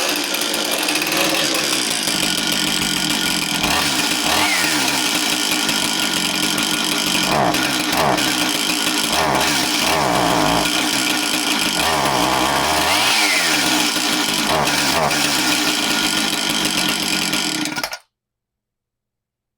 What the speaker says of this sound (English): I guess technically it ran